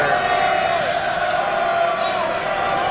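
A crowd at a college volleyball match between Trinity University and Juniata College roars continuously, a dense wash of cheering and shouting that stays loud throughout without letting up.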